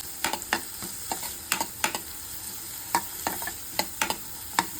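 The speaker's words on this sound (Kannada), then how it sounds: "ಸೊ ಏನಿದೆ ಈರುಳ್ಳಿನ ಹಾಕ್ಕೊಳ್ತೀನಿ. ಚಟಪಟ ಅಂತು ಇದು" Onions fry in a hot pan, crackling and popping in sharp irregular bursts against a steady low sizzle, close and fairly quiet, with no talk.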